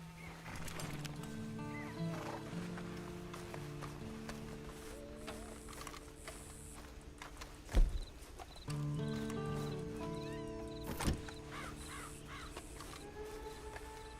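A horse in Red Dead Redemption 2 snorts and whinnies twice amid hoof clops and bird caws over a steady background music bed, the neighs standing out sharply against the low ambient track.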